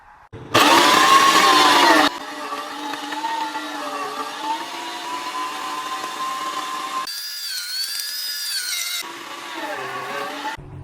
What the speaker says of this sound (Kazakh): Енді осы помидорды, болгар бұрышын, петрушканы, чеснокты, қызыл бұрышты бәрін бірге мясорубкадан өткіземін